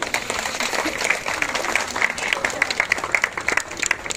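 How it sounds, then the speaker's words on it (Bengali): Applause at an evening protest gathering for women's safety: a crowd claps loudly and steadily for several seconds, with sharp individual claps standing out from the dense clatter. "হাততালি।"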